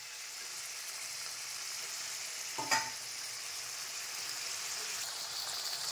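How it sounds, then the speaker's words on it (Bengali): Mutton stirs and fries in a pan with a quiet, steady sizzle and hiss, interrupted once by a short clatter of a utensil against the pan. "মটনটা আমার নাড়া হয়ে গেছে"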